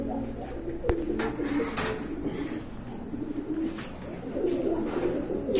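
Pigeons cooing in a loft, repeated soft low coos from several birds nearby, with a few faint clicks and wing rustles in between.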